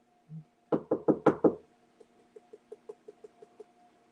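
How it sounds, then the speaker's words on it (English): Knocking on a wooden surface: a quick cluster of five loud, close raps, then a lighter, evenly spaced series of about ten softer taps that fades off, with no talking. "And God, I'm gonna knock on wood."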